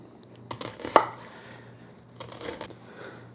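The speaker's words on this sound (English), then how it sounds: "I'm going to cut my onion slices maybe 1/2 inch thick" A knife slices an onion into thick rings, with a handful of separate sharp cuts against a board, one louder knock near the start and a short cluster later, over a faint steady hum with no voices.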